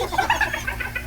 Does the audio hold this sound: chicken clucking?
yes